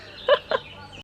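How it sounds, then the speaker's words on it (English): Birds sing outdoors in quiet countryside, giving two short, bright chirps in quick succession against a soft, still background. "Quiet, silence, bird sounds."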